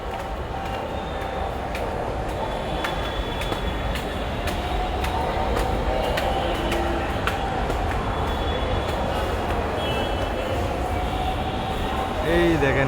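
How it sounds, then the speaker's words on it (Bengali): Riding inside a crowded Dhaka metro train, a steady rumble of wheels and carriage noise with occasional faint squeals and clicks, while voices chatter throughout. "লাইভে ফার্স্ট টাইম মেট্রো ট্রেনে উঠতেছি আমি।"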